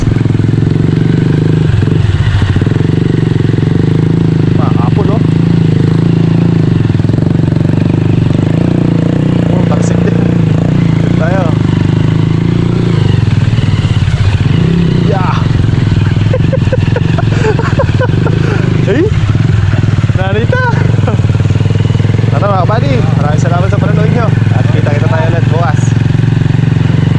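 A motorcycle built for mud runs loud and close through wet, muddy ground, its engine holding a steady rumble while it revs up and drops back again and again, with people talking over it.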